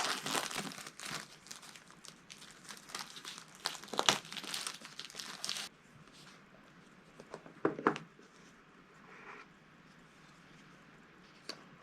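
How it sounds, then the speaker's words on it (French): A Tangem crypto wallet box is being opened, giving crinkly crumpling of packaging and paper with soft rustles and a few sharper tearing bursts, close and fairly loud at first, then quieter handling with occasional crackles. "nous allons ouvrir cette boîte."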